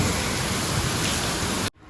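Heavy rain pours down at a brick kiln, giving a loud, dense, continuous hiss that cuts off abruptly near the end.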